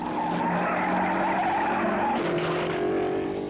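A 1950s Formula 1 Maserati race car spins off the track, tires skidding and squealing under a loud, steady engine roar that continues without a break.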